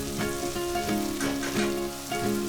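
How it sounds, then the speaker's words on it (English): Masala spices with vegetables sizzle steadily in a hot pan, a close, continuous frying crackle with a few soft stirring scrapes. "Then fry this for about 3 to 4 minutes"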